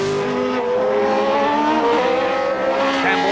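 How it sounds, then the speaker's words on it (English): A 450-horsepower Reynard Formula 3000 race car at Thruxton in 1989, its engine screaming at high revs as it passes, loud and close with rising and falling pitch and a faint commentator voice underneath. "Gary Brabham's handling this 450 horsepower Reynard like a veteran."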